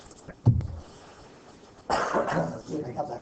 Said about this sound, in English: I got that cough recorded.